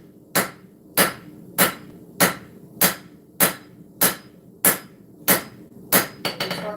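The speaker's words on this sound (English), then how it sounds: "Start flattening that tang out." Hammer blows flattening and thinning the tang of a forged cleaver, about ten sharp, evenly spaced ringing strikes close by, quickening into a rapid cluster at the end, with no talk.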